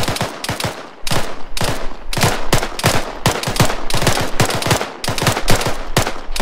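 Dense, rapid bursts of automatic rifle and machine-gun fire in the Arma 3 military shooter, loud and close, with sharp repeated shots and short pauses between volleys throughout.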